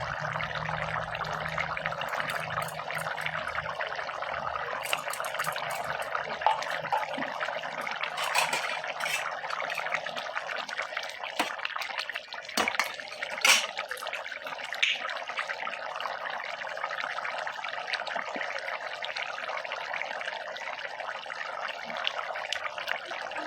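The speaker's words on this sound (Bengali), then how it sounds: "এখন আমি ঘি দিয়ে দেবো" Ghee goes into a simmering Bengali rui fish head curry with puffed rice (muri ghonto) in a pan, giving a steady, close hiss and soft bubbling that carries on unbroken throughout.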